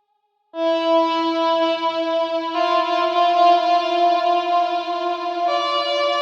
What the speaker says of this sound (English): You can hear in the background there's this guitar for the breakdown section